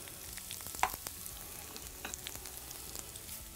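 Mustard seeds and onion sizzle steadily in hot oil in a pan in a wood-fired oven, a constant close frying hiss with a few light stirring clicks.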